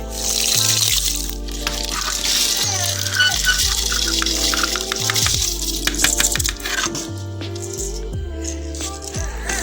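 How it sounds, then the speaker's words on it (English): Water sloshes and splashes steadily with grainy rattling as rice is swished and rinsed in a bowl, close and continuous with faint background music. "we are going to wash the rice and add it to it."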